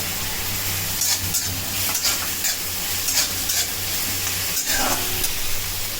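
Chopped green chilli, ginger and garlic sizzle steadily in a hot pan of oil, with stirring scrapes and clatters breaking through the continuous frying hiss, close and fairly loud.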